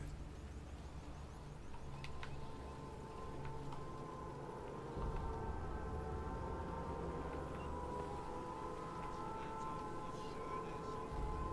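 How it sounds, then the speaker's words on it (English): Air raid sirens wail in the Sniper Elite 5 video game, a steady sustained tone with layered harmonic bands holding over a low rumbling background for the whole stretch, with no talk. "the air raid sirens are going off"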